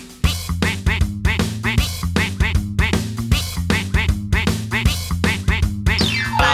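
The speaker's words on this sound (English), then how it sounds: "Mother duck said quack, quack, quack, quack." Cartoonish duck quacks repeat in a steady, bouncy rhythm, mixed into a loud children's song with dense music throughout.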